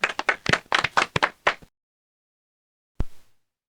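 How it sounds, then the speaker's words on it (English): A small group at a podcast recording claps for a guest, a quick burst of close hand claps lasting about a second and a half, then silence and one final single clap. "everyone clap it up for Matt"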